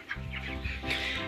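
Chickens on a poultry farm clucking in a steady murmur close by, several birds together over the whole short stretch.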